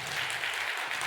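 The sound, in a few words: applause in a church service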